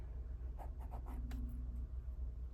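A fountain pen nib with fibers caught in it scratches across paper, several faint short strokes in quiet room tone.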